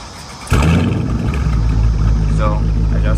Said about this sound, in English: that's the RT. I had an idle. Now rev it.